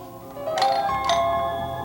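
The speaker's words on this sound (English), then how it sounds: "The doorbell rings." A doorbell chimes twice in quick succession, clear and close, over a quiet room.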